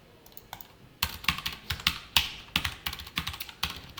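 Rapid keystrokes on a computer keyboard while JavaScript code is entered, a faint patter at first, then close, crisp clusters of clicks in irregular bursts with no talking.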